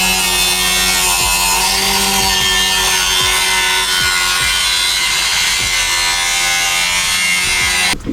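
A power tool cuts into the firewall area of a 1971 Chevy C10 truck, a loud, continuous, harsh grinding whine close by with repeated rhythmic strokes, no talking.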